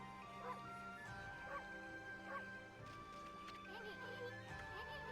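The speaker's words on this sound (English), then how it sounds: "Bark." Dog barking in the video game Ōkami HD, several short yips and barks spaced across a few seconds over a steady game music bed, fairly quiet.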